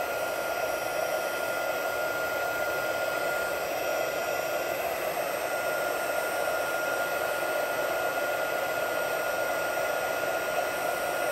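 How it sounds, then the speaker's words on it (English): A heat tool blows hot air steadily over a stained glass craft piece, giving a constant, close, hair-dryer-like whoosh with a fan whine and no pauses. "Okay, I'm gonna use a heat tool."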